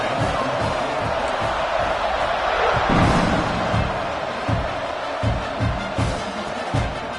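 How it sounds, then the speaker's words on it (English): A stadium crowd at an American football kickoff, heard as a sustained broad roar of cheering with swelling peaks and a few sharp whoops, loud and continuous throughout. "this crowd now ready to get behind them"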